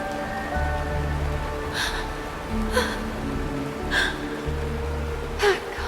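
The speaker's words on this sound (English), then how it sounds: "It is raining." Rain falling in a fantasy role-playing game set in Penacony, a steady soft wash under a layered musical score, with a few brief bright splashes standing out now and then.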